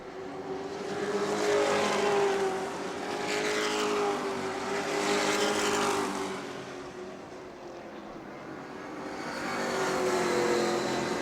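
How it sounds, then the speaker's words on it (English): Sportsman race cars circle the New Smyrna speedway during the Shark Bite event, their engines swelling and fading in repeated passes, fairly distant and moderate in level with no talk. "Laps to go here in the Sportsman race, and it's Donovan Ponder out ahead"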